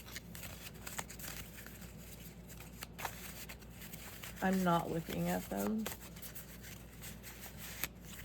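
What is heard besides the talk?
shuffling watercolor scale cards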